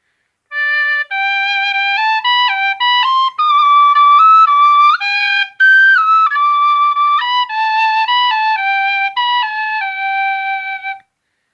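A little melody played on a high-quality plastic whistle, bright clean notes stepping up and down in a lively rhythm, close and fairly loud with no voices.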